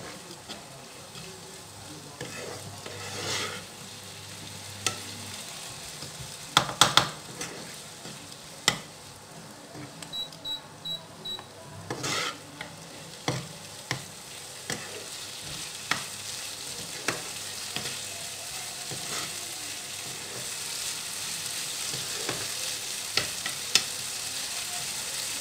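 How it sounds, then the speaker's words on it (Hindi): Tomatoes salted and softening in a hot pan give a quiet, continuous sizzle over a long stretch, with scattered clinks and scraping stirs from a utensil. "इसमें इसको अच्छे से हम गलाने के लिए टमाटर को इसमें थोड़ा सा नमक डाल देंगे जिससे ये जल्दी गल जाएगा"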